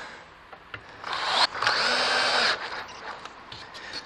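A power drill drives a 120 mm screw into wood while a beehive stand is built: a short whir rises into one steady, loud grinding run of about a second and a half, then cuts off, with a few knocks around it.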